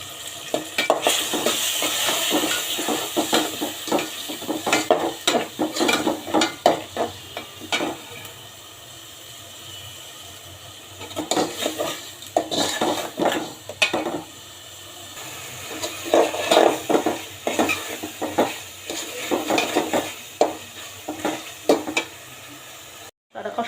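Chicken sautéing in a pan with ginger-garlic paste, chilli and salt, a steady close sizzle broken by repeated scraping and clanking of a spoon against the pan, busiest early and late with a quieter stretch in the middle.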